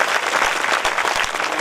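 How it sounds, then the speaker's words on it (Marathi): An audience at a Panchkrishna community awareness lecture series in Haturna breaks into dense, sustained applause, loud and close, filling the whole moment with many overlapping hand claps. "म्हणून एक वेळा जोड्यानं टाळ्यांचा गडगडाट होते"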